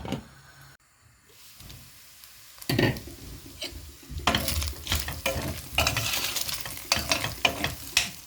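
Ground meat for içli köfte frying and being stirred in a pan, a soft quiet start giving way to a steady sizzle with scraping spoon strokes close up.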